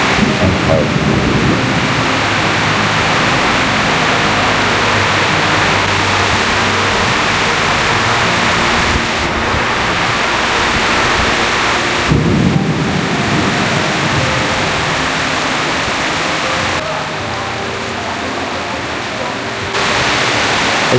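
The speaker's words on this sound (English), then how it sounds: "the rain continued to fall" Steady rain falls on the streets of Bangkok, a dense continuous hiss with low rumbling beneath, holding loud and even throughout with no clear voices.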